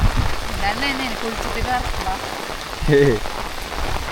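Heavy rain pours in a steady, loud hiss around someone walking outdoors, with a voice faintly heard through the downpour.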